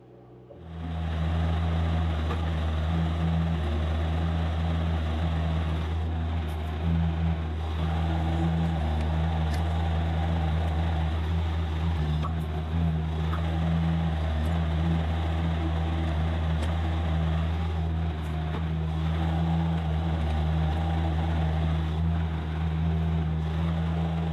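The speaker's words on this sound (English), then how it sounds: "I spin the cab on the tracks and drive that way" A tracked construction machine rumbles steadily at close range as its cab spins on the tracks and it drives off, with a constant low engine drone that holds level throughout and no talk.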